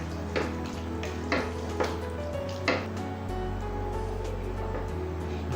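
Chicken curry in a pot, Kerala-style nadan kozhi curry with water just added, is stirred with a spoon that gives a few soft knocks and scrapes over a low, steady cooking murmur.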